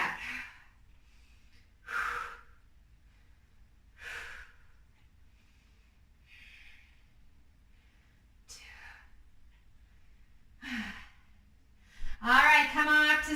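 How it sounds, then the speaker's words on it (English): Deep breathing during a HIIT workout: slow, spaced breaths in and out recur every couple of seconds, close and soft against near silence, ending in a brief burst of voice. "This is where you really start to notice that deep breathing"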